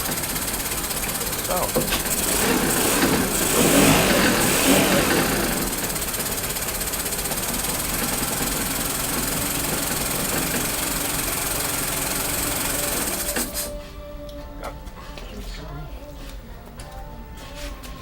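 A Yamaha engine idles in neutral with a steady, knocking, rattly running note, loud at first and then dropping to a lower, quieter idle; someone speaks briefly over it.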